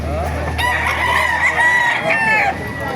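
Kanawayan rooster, about seven to eight months old, crows once up close, a loud drawn-out call of roughly two seconds that rises and then trails off, with crowd noise around it.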